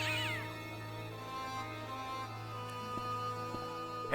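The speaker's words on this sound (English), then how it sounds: "There's a cat behind me." A cat in the video game Broken Sword lets out a single rising meow right at the start, then the game's steady musical drone carries on alone.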